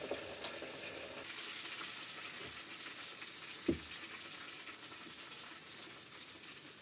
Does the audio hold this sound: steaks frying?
yes